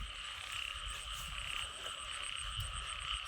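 Kob khom frogs croak in a dense, continuous chorus, with steady high-pitched calls layered over low rumbling background noise and no voices.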